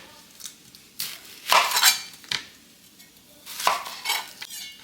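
A knife works through a small whole onion on a board, giving several scraping, crunchy cuts in irregular bursts with pauses between, close and moderately loud, with a light clack of the blade.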